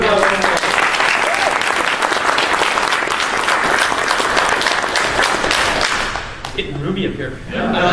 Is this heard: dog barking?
no